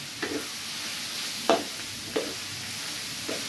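Pork for dinuguan frying in a pan with garlic and onion, a steady sizzle broken by a few scraping stirs of a utensil, close up and with no voices.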